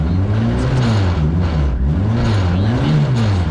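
A car engine is revved in neutral, loud and close, its pitch swinging up and down in repeated rising and falling blips over a steady roar.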